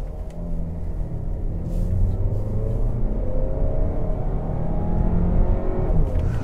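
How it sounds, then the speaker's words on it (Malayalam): A new Volkswagen Tiguan Allspace 7-seater with a turbo petrol engine, driven in S mode, revs hard toward its 6000 RPM redline from inside the cabin, the engine note climbing steadily over low road rumble, loud and continuous. "6000 RPM റെഡ് ലൈൻ ചെയ്തിട്ട് ഗിയർ മാറുന്നു."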